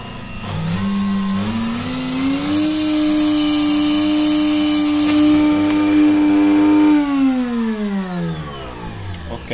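A Sage Super Q blender whirs up from low speed to maximum, its motor pitch rising to a steady high whine, holding loud and near, then winding back down.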